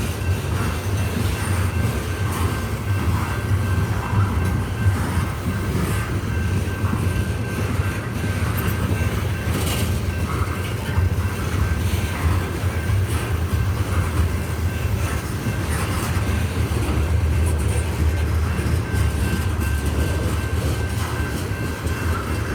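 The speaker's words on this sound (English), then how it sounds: "I hear some trains going by." A CSX coal freight train rolls past in Mount Airy, a steady, continuous rumble of wheels and cars on the rails that holds at a moderate distance with no break over the whole stretch.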